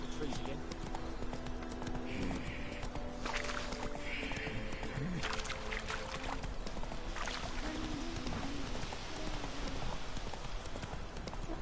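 Roach the horse's hooves clip-clop at a steady pace across the ground in The Witcher video game, a rhythmic clopping heard alongside a talking voice and soft ambient game sounds.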